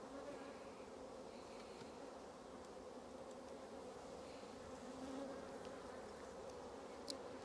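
Honey bees buzz in an opened hive during winter preparation, a faint, continuous droning hum with steady texture and a few small clicks.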